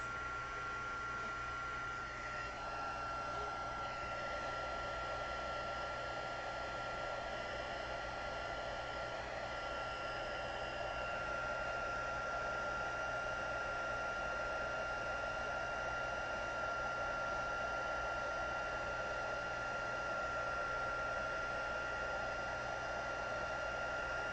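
A handheld heat embossing tool blows hot air over a stamped greeting card in a craft room, a steady, even fan-like roar running without break for about twenty-four seconds at moderate level, with no talking.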